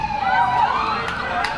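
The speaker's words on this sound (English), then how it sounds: "and more sirens now." Emergency vehicle sirens wail near a varsity soccer match, their rising and falling tones sweeping steadily and fairly loud throughout.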